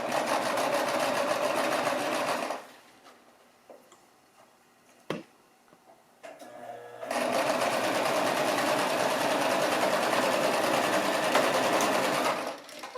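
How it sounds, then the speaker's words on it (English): Sewing machine stitching the brim seam of a baby hat, two long runs of fast, even needle chatter close by, broken by a quiet pause with a sharp click and light handling, with no talking. "we're just going to sew this little seam, front, back up a little bit to secure it"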